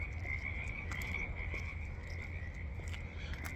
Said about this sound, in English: now I'm out and about with the frogs, as you can hear them